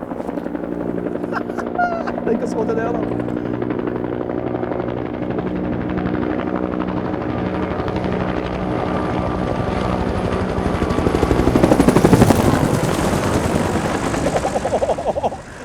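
An RC model helicopter flies at a soaring site in Norway, its rotor giving a loud, steady buzzing drone that swells louder as it passes close, while people talk in the background.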